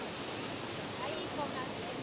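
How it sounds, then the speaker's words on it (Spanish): Chorrillo del Salto waterfall near El Chaltén, Argentina, produces a continuous, dense rushing roar that fills the air, steady and fairly close, with no other sounds standing out. "Traducido sería una cascada, chicos."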